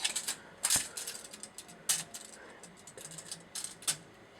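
A measuring tape clicks and rattles as it is pulled out and handled beside a toy robot, giving sharp ratcheting ticks in irregular bursts, close and fairly quiet.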